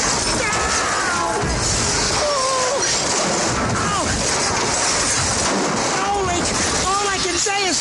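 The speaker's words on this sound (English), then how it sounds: "I'm crashing through somebody's house." A Caterpillar D6 bulldozer crashing through a house is rendered as loud sound effects of smashing, shattering wood and glass and rumbling debris, with someone speaking frantically over the din.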